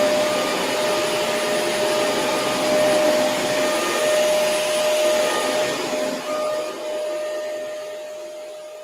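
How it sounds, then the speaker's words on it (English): A vacuum cleaner runs indoors with a loud, continuous whine and rushing airflow, holding steady for several seconds before easing off slightly near the end. "I'm going to vacuum with it right in front of you."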